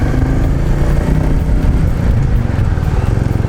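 Royal Enfield Meteor 350 single-cylinder engine thumping steadily on the road, a loud continuous low rumble with a fast even pulse and wind noise, no talking.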